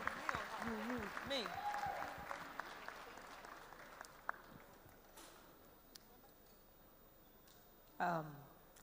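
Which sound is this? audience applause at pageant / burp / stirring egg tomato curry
audience applause at pageant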